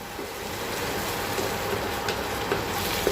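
Yogurt, poppy seed and cashew paste frying in oil for a Bengali potol dolma gravy, a steady close sizzle running throughout with a few faint clinks of stirring.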